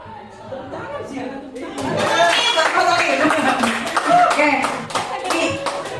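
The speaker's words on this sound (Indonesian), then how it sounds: "Tepuk tangan Ibu Fitri." Applause for a teacher named Ibu Fitri breaks out in a small group gathering, lively clapping rising after a brief spoken word and continuing amid chatter and light laughter.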